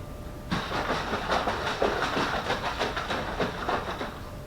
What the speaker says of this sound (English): So now I've put the lid on tight and I'm going to give it a mix around.